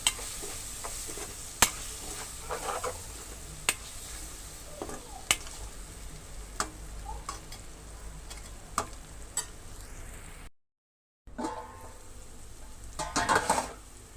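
Prawns with ginger garlic paste frying in a pan, a steady close sizzle with repeated sharp clicks of a spoon stirring against the metal, a brief dropout, then louder scraping and stirring at the end.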